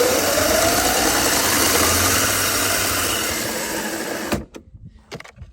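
Electric bike motor running in its high-speed mode, a loud steady whir with a faint rising whine that cuts off abruptly near the end, followed by a few scattered clicks and knocks.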